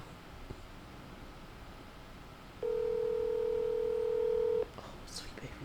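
A phone call is placed, with a steady dial or ringback tone running for about two seconds in the middle over a quiet background, then stopping; no one speaks during the tone.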